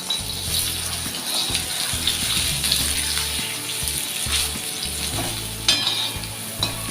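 Stuffed pomfret fish shallow-frying in a pan over a medium gas flame, a loud dense hiss of oil with a low rumble beneath and occasional scraping bumps, close and without speech.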